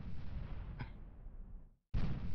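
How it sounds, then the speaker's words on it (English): Borg cube turrets in the Star Trek game Starcore fire in heavy booming blasts, a dense rumbling barrage that cuts to brief silence before another loud blast. "can see the rate of fire off that Borg cube really starting to work up"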